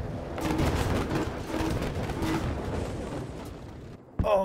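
Gunfire in the World War II shooter Battlefield 5, a dense, sustained barrage of shots and blasts filling the scene, loud and continuous before a brief lull and a final sharp burst.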